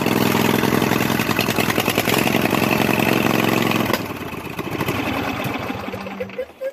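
A Craftsman V-twin lawn tractor engine runs loud and steady just after a cold start, a dense mechanical roar that eases slightly partway through, then sputters and dies toward the end.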